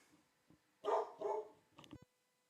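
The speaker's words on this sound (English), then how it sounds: "sorry, my dogs are in the background." A few dog barks ring out in a room in the background, two louder barks then softer yips, with no talking.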